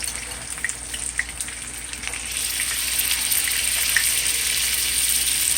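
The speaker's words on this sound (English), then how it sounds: "start putting your bammy in the pan" Jamaican bammy cassava cakes laid into a hot non-stick pan give a steady, close frying hiss with a few small pops early on, growing fuller and more even as the sizzle settles in, with no talk.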